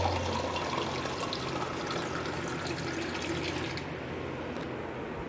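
Water from an RO purifier runs steadily into a lota, a continuous close splashing fill that thins out near the end.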